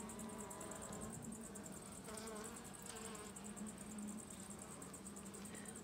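Honey bees buzz at an opened hive, producing a steady, dense hum with a few louder passes close by and no talking.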